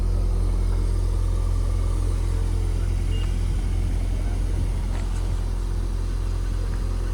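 A blue 2024 Volkswagen Golf R hot hatch sets out on a test drive, its engine a steady, loud low rumble throughout with no talking.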